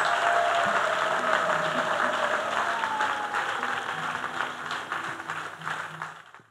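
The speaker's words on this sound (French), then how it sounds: "Clap offering to Jesus Christ." Church congregation at a prayer gathering clapping an offering of applause to Jesus Christ, a full, sustained wash of many hands that gradually fades toward the end, with faint voices underneath.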